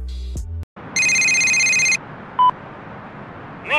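A mobile phone ringtone plays in Grand Theft Auto 4. It is a loud, clear electronic tone held for about a second, followed by a short beep and a rising note at the end, with no voices.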